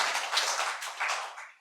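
A church congregation bursts into applause during a sermon, a dense wash of many hands clapping together that fades out after a second or so.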